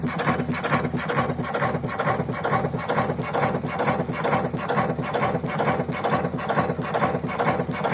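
A cigarette making machine runs steadily, producing a fast, regular mechanical clatter and whirring rhythm that stays loud and close throughout, with no voices.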